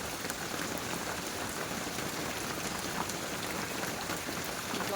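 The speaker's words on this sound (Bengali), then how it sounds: "এই যে একঘেয়েমি বৃষ্টিটা না একদমই কিছু ভালো লাগে না" Steady monsoon rain falls outdoors in an even, unbroken hiss of drops on surfaces, fairly soft and constant throughout with no voices.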